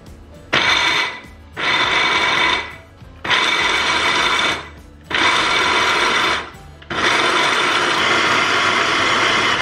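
Food chopper grinding hazelnuts in five loud whirring bursts separated by brief pauses, the last run held longest.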